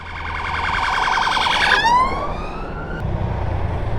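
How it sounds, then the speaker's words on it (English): An emergency vehicle siren wails with a rapid warbling yelp that shifts into a rising sweeping tone, loud and steady over road wind noise heard from an electric NIU NQI GTS Pro scooter. "I can hear a emergency vehicle coming from somewhere a mile off"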